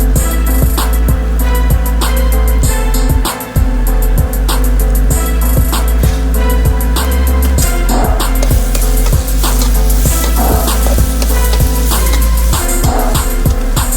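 Vegetables for veggie burgers frying and caramelizing in a pan, a loud, steady sizzle with rhythmic scraping and tapping from stirring throughout.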